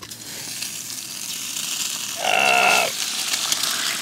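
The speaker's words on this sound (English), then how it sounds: "I gotta get that eggs in." Eggs frying in hot bacon fat over a campfire, a steady crackling sizzle throughout that swells louder for about a second midway, close and alone without talk.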